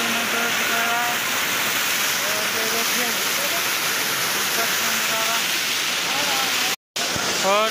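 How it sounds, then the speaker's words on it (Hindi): A waterfall along the Kedarnath pilgrimage trail rushes in a loud, continuous roar, with a voice talking faintly over it and a brief cutout near the end. "जगह जगह पर झरना भी चल रहा है"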